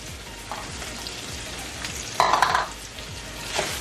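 Onion and jalapeno hit a hot frying pan for a pasta dish, producing a steady sizzle with a bright burst of crackling partway through and a few light stirring scrapes, close and without talk.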